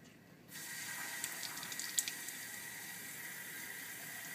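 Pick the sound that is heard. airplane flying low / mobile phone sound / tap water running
tap water running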